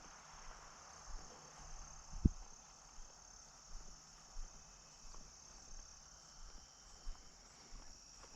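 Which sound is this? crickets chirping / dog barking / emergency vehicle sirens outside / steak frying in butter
crickets chirping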